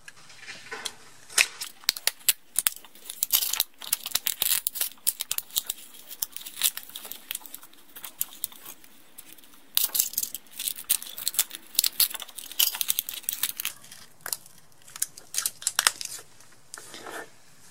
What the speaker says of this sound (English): Now let's cut the dust cap and see some smoke.